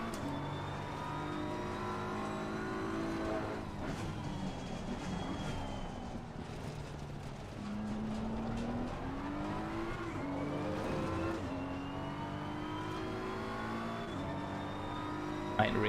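A BMW race car engine revs and accelerates on a track, loud and continuous, its pitch climbing and dropping through gear changes for the whole stretch.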